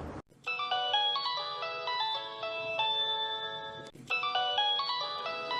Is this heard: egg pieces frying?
no